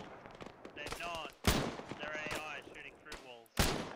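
Gunfire in the military shooter Arma 3, sharp broadband cracks at about 1.5 and 3.6 seconds standing out from a busy battlefield din, with voices talking over the scene throughout.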